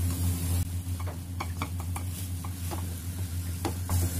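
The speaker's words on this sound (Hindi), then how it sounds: "अब इसको अच्छे से मिक्स कर लेंगे।" Mashed pea samosa filling being stirred and mixed in a pan, with soft scraping and light clicks of a spoon over a steady low hum, no talking.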